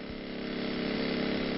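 A pneumatic drill bores dry blast holes in an underground slate mine, a steady loud continuous mechanical roar with a pulsing drone throughout.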